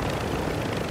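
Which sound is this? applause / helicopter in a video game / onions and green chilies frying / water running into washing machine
helicopter in a video game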